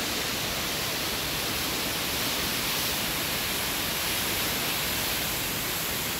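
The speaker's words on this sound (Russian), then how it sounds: "Водопад прямо низвергается в ущелье" A waterfall in Eastern Abkhazia plunges into a gorge, giving a loud, unbroken roar of rushing water that stays even from start to finish with no voices.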